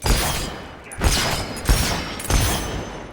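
Gunfire in the video game Fable 3 crackles in four heavy blasts roughly every half second to second, loud and close, with rumbling tails between shots and no talking.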